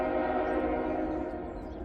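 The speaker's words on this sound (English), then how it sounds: "that definitely sounds like it's a GEVO on this train." CSX freight train led by a GE Evolution series locomotive passing on a rainy day, a steady loud diesel drone with layered tonal hum holding throughout, slowly easing slightly toward the end.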